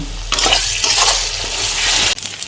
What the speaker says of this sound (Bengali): একটু শুকনো লঙ্কা গুঁড়ো একটু দিয়ে দিচ্ছি, দিয়ে একটু কষিয়ে নেব।